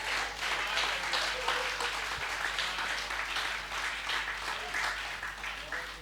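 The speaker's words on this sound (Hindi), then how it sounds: "एक बार बजा ताली मिलकर सारे" Sustained applause from an audience at a Hindi poetry recital, a dense wash of many hands clapping steadily for about six seconds, moderately loud and even throughout.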